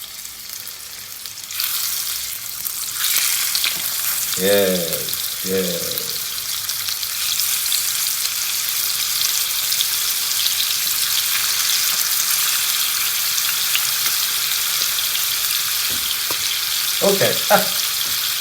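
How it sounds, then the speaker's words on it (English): Beef steaks sizzle steadily in a hot pan, a broad continuous hiss that persists throughout, with brief voices speaking over it near the start and near the end. "Now we need to put the steaks in. Now remember, isn't that a beautiful sound?"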